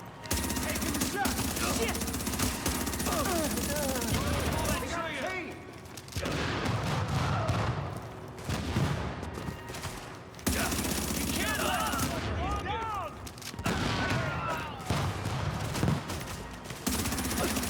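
Rapid bursts of video-game gunfire crackle through a dense, continuous mix of game effects, broken by a few short lulls, with a voice talking over parts of it.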